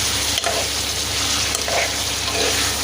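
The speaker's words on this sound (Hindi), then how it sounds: "ये देखें चिकन फ्राई हो रही है, अच्छे से इसको फ्राई करेंगे" Chicken pieces fry with onion and garlic in a pan, giving a steady, dense, close sizzle with only a few faint clicks and no talking.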